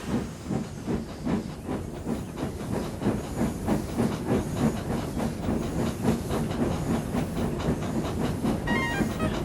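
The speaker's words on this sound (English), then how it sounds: "The guard's whistle blew, and Henry started off." A steam locomotive pulls away from a standstill, loud rhythmic chuffs and hisses of steam repeating steadily and close by, with a brief high whistle-like tone near the end.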